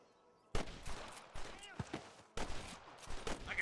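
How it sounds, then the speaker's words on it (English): Gunfire in the Western video game Red Dead Redemption, sharp bursts of shots starting abruptly after a quiet moment, a scatter of cracks and rattles with a second loud burst near the end, under shouting voices. "I can hear more gunshots."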